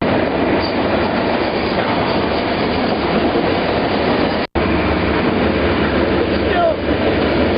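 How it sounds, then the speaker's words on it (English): A freight train rolls along, heard up close by someone riding on it. A loud, steady rumble of wheels and rattling cars carries on throughout with one abrupt brief cutout, and faint talk may sit under it. "Still on the same train here."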